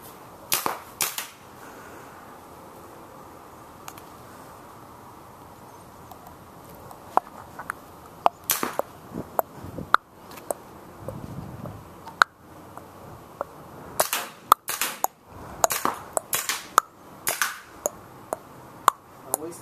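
Toy cap gun shots crack out as sharp, dry pops, first a few scattered ones, then dense irregular bursts later on, close and loud over a quiet background.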